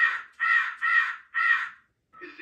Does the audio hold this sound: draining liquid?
no